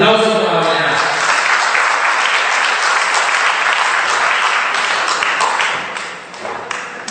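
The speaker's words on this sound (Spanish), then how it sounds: "Un aplauso para" A seminar audience applauds, with loud sustained clapping from many hands that thins near the end, and voices mixed in beneath the applause.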